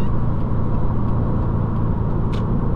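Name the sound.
Subaru WRX turbocharged engine accelerating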